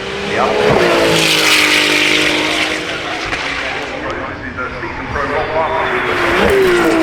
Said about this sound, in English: Enjoy the sound of the Ferrari FXX.